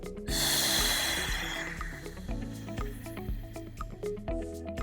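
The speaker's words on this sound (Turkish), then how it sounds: "Nefes al ve iyice içeri üfle." Forceful breathing exercise with sharp blowing exhales, a long loud breath out at the start followed by a rapid run of short puffed breaths, close to the microphone with no speech.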